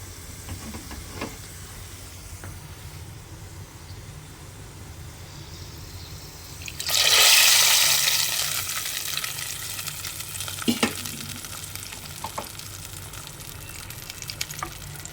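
Cashews and raisins fried in ghee poured into a pot of moong dal payasam, a sudden loud sizzle that flares up and slowly fades, then small clinks against a quiet kitchen background, with no talk.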